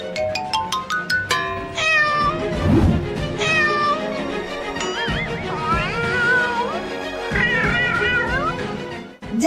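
Cartoon cat meowing repeatedly in a comedy skit, loud, drawn-out and pitch-sliding yowls over a busy mix of music and effects, with a caterwauling quality throughout.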